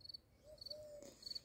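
Crickets chirp at night outside a tent, faint repeated high trills in short pulses about every half second, with a low hum beneath and no voices.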